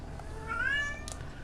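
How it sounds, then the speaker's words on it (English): A pet cat meows once in the background, a rising, drawn-out cry at moderate distance, with faint room ambience and no talking. "you'll have to pardon my cat in the background"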